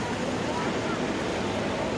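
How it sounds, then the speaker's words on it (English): Constant broadband wind rush on a trimaran off Playas del Coco, Costa Rica, steady and fairly loud throughout, with a low rumble underneath and no voices. "It's pretty windy still."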